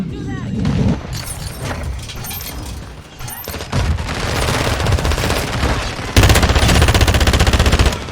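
Rapid automatic gunfire in Call of Duty: Modern Warfare II while crouching and shooting, loud dense bursts that swell and intensify near the end, with a voice talking over the shots.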